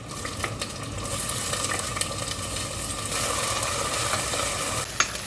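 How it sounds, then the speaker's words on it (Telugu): Whole spices tempering in hot oil for a mutton curry sizzle steadily and close up in a pan, with a few metal clinks of a spoon stirring partway through. "ఇక్కడ మటన్ కోసం అయితే పోపులన్నీ వేసేసాను."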